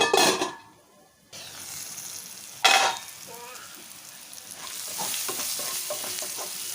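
Spices sizzle and fry in a pan for a Telugu black-eyed bean (bobbarlu) curry, with loud stirring scrapes and clinks of a spoon against the pan over a steady close crackle.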